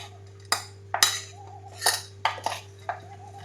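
A metal spoon clinks against a pot as peanut powder is stirred into yoghurt-based kadhi, giving about eight sharp, separate knocks and scrapes over a steady low hum, with no talking.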